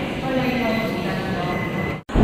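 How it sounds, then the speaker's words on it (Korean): Inside a GTX-A express train leaving Seoul Station, a steady broadband rumble runs under a speaking voice, then cuts out abruptly near the end before resuming. "이제 GTX의 열차에 승차합니다"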